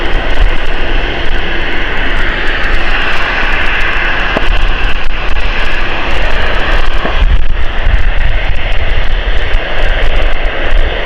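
Jet airliner roaring at Gatwick Airport on a misty morning, a loud, broadband engine rumble and whine sustained for the whole stretch, close and steady with slight surges.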